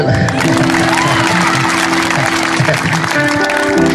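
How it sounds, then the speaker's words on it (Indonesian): A classroom of students breaks into loud, sustained applause for a classmate, mixed with crowd cheering and a few whoops and voices. "Tepuk tangan untuk Frans."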